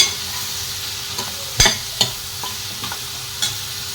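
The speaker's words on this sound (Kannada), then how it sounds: "ಸೊ ಇದು ಸಣ್ಣ ಉರಿಯಲ್ಲಿ ಚೆನ್ನಾಗಿ ಫ್ರೈ ಮಾಡಿಕೊಂಡ್ರೆ ಬೆಂಡೆಕಾಯಿ ಫ್ರೈ ರೆಡಿ ಆಗುತ್ತೆ." Okra frying in a pan over a low flame gives a soft, steady sizzle throughout, with a few sharp stirring clicks and scrapes scattered through it and no voices.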